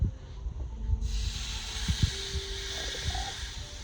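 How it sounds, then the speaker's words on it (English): Pork tenderloin sears in a hot, oiled cast iron pan, a loud steady sizzling hiss that jumps up about a second in and carries on under light kitchen clatter. "Grab your pork tenderloin, get a nice sear on it."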